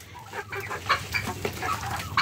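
Chickens and small chicks cluck and cheep in a busy farmyard flock, with several brief calls scattered close by over a steady low background hum.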